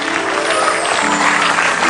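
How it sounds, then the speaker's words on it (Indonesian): Studio audience applauding on an Indonesian comedy talk show, a steady dense wash of clapping throughout, loud and close, with faint voices mixed in. "Ini luar biasa, tepuk tangan dulu untuk Desta."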